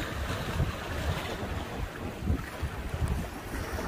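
Strong wind at Beachey Head buffets the microphone in a steady, rumbling roar, with gusty low thumps and no voices.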